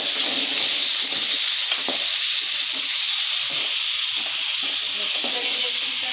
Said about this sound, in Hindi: मीडियम टू लो फ्लेम पे फ्राई करेंगे ताकि ये जले ना